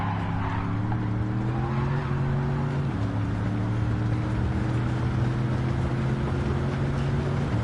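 A race car engine in a racing video game holds a steady, loud drone that shifts pitch slightly partway through, with no talk over it.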